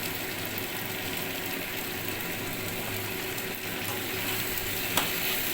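Chicken in a pan stirred and fried over medium gas flame, a steady broadband sizzle throughout with faint scraping of stirring and a small clink near the end, no talk.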